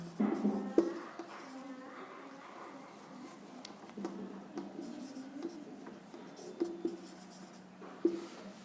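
Place names being written on a board during an English grammar lesson, with scratchy strokes and sharp taps recurring irregularly. A voice murmurs softly in the background at times.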